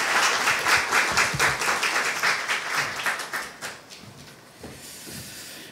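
Church congregation at a Sunday worship service applauding to welcome the preaching pastor: loud, dense clapping from a full room that rolls on steadily, then thins and fades toward the end.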